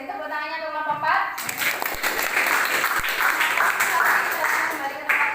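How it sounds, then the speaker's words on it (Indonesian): Classroom applause for a group presentation, students clapping steadily together for several seconds while a voice speaks briefly at the start. "Beri tepuk tangannya untuk kelompok 4."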